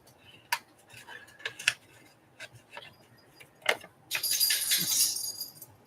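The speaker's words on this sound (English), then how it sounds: "I can't get that corner rounder in there, so we'll just do it with our scissors." Scissors snip around the corner of a paper craft piece for a faux vintage travel document, giving several short, crisp cuts followed by a longer rustling, scraping burst, all close and fairly quiet with no talk.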